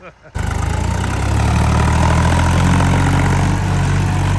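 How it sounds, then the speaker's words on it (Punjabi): A Massey tractor engine starts up and runs at a steady loud idle close by, with a deep throbbing drone that continues unchanged to the end. "ਬਹੁਤ ਤਗੜਾ ਟਰੈਕਟਰ ਆ ਭਾਈ ਇਹ ਵੀ"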